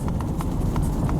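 A horse's hooves clip-clop in a steady, fairly loud rhythm close by at a Yakut farm, with a low rumble of background noise underneath.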